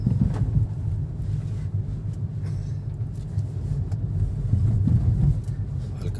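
Hyundai Nios car driving on the road with steady low engine rumble and some wind noise throughout while shifting into fourth gear; no distinct shift sound stands out.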